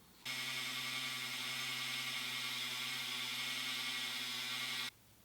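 A rotary tool with a diamond bit cuts along a seam on a Hot Wheels die-cast car, giving a steady, close high-pitched whine that starts abruptly, holds constant for about four and a half seconds, then stops.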